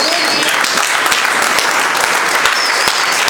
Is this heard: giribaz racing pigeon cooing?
no